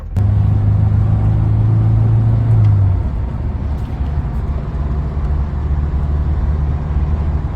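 A 1985.5 Ford Mustang SVO driving on a road, its engine giving a loud, steady low rumble with a droning tone for the first few seconds that then settles into a rougher, continuous road noise.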